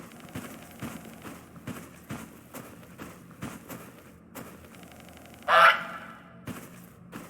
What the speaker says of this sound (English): That's a fun touch, I think, with having the duck quack.